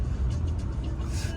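Steady rumble of road traffic with passing cars, buses and trucks, a continuous low drone close by on busy streets in Ghana.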